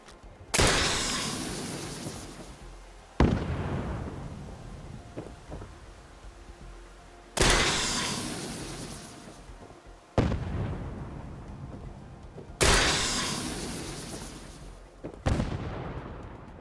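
Gunfire sets off flammable gas canisters in Fallout 4, producing five loud, separate explosive bursts a few seconds apart, each with a sharp crack and a long, fading rumble.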